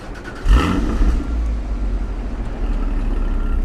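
A 2016 Porsche Boxster Spyder with a flat-six engine and dual-tip exhaust fires up: a short starter whir, then a loud bark as it catches, settling into a strong, steady idle close by.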